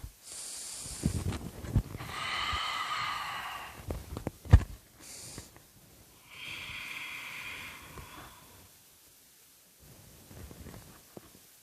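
Slow, deep breaths drawn during a yoga fold: long airy inhales and exhales in a steady rhythm, close and moderately soft, with no talking.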